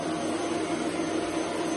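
A Hoover vacuum cleaner runs with a loud, steady roaring whine that stays even and unbroken from start to end, with no voices over it.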